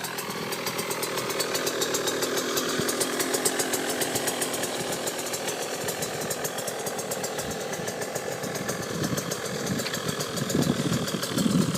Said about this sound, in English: that's my 2009 KTM 125 SX on the M2 work stand